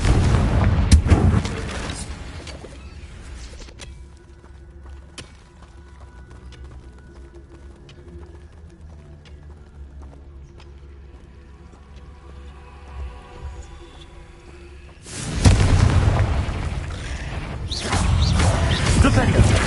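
Loud blasting bursts from the Confringo fire spell in Hogwarts Legacy, a heavy cluster at the start and another sustained run near the end, separated by a quieter stretch of low game rumble and ambience.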